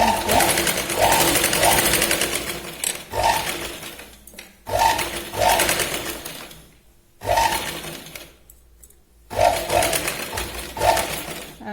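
Sewing machine stitching a katori blouse in several separate runs, each a close steady whir lasting one to three seconds, broken by short quiet pauses.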